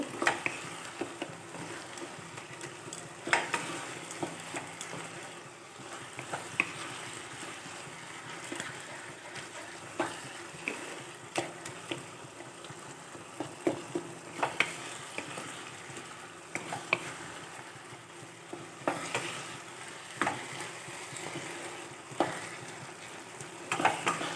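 Bottle gourd curry thickened with flour being stirred in a pan, a steady soft sizzle of frying with repeated scraping and stirring strokes and occasional clinks, continuous and close, with no talk.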